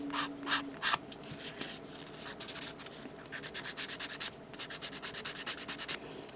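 Sandpaper is rubbed back and forth over a glued plastic part of a 1/144 HG Gundam Cathedral Schwartzritter model kit, giving quick rhythmic scratchy strokes, close and fairly quiet, with short pauses between bursts.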